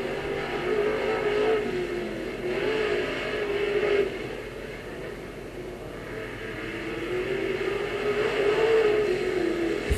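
Race car on a circuit lap, a loud, continuous engine drone that rises and falls as the car accelerates and eases through the turns.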